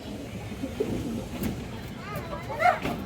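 A female pigeon at a pigeon sale coos softly in a couple of short rolling calls, heard faintly beneath someone talking.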